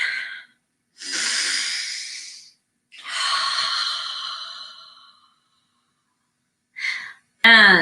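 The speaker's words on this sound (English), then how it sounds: "Let's take another breath." Deep cleansing breaths during a guided meditation, heard as slow, close, airy inhales and long exhales separated by short pauses, with a brief voice at the end.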